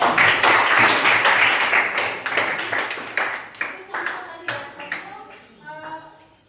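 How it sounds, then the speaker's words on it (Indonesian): A group claps during a coding and artificial intelligence teacher training session, starting as a dense burst of many hands and thinning into scattered individual claps that trail off, with faint voices in the room. "Oke, tepuk tangan ya kak"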